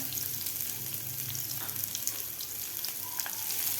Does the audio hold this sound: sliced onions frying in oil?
yes